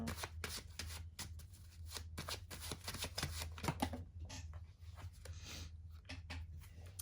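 Tarot cards shuffled by hand in a steady run of crisp, close riffling flicks and soft rubs over a low hum, with no voices.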